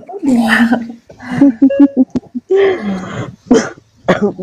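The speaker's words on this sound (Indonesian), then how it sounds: "Sorry lagi batuk tuh." Several short coughs and throat-clearing bursts, close and loud, interspersed with brief vocal sounds.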